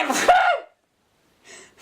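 A single close, loud sneeze from a person with a gasping intake, followed by a short pause and a faint breathy sound at the end.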